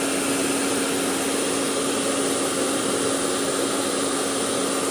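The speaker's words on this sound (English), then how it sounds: "a hairdryer to apply heat evenly across its surface" A handheld hairdryer blows hot air steadily across a wall sticker, a continuous broadband whoosh with a faint motor whine, close and unchanging for the whole span with no talk.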